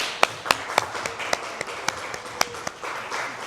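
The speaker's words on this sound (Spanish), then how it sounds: "Un aplauso a todo el equipo de UR." An audience claps for a team in a sparse, uneven patter of distinct hand claps, fairly quiet and thinning out over a few seconds.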